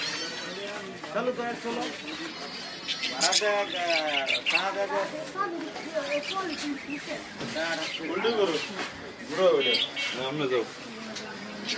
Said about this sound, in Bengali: পাখির দোকানে চলে আসলাম আজ। দেখুন কত সুন্দর সুন্দর পাখি।